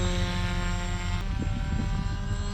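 Pink insulation foam RC combat wing plane making a flying pass: a loud, steady electric propeller whine with strong harmonics, whose pitch shifts partway through as the plane goes by close.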